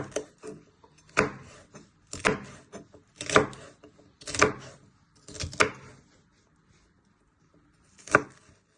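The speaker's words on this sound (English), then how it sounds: "you just want to chop it into little pieces" A knife chops garlic into little pieces on a board: five or six distinct bursts of rapid chopping, each lasting under a second, then a pause and one final burst. The sound is close and clear, with no talking.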